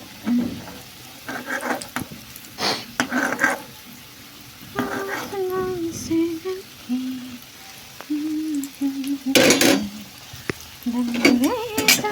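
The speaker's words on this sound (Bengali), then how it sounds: "চলো সব একসঙ্গেই ভেজে নিই" Food frying together in a pan on a gas stove, with sizzling and stirring clatter of a utensil against the pan, intermittent scraping bursts and scattered voices talking over it.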